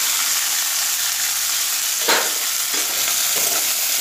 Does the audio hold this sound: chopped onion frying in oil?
yes